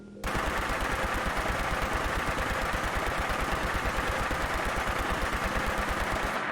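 Rapid-fire Gatling-style laser weapon from Fallout 4, modded, shooting in a steady, fast mechanical stream of evenly spaced pulses that runs continuously and loud for several seconds before cutting off.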